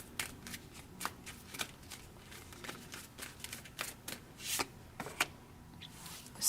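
Tarot cards shuffled and dealt, a quick run of crisp riffling and slapping card sounds close by, steady and fairly quiet with no talking.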